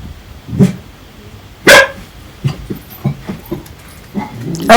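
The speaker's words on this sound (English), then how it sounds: "Peggy never fails to bark when I'm doing a voiceover." Peggy the dog barks in several sharp, close yaps spread over a few seconds, mixed with softer whimpers and yips in a quiet indoor room.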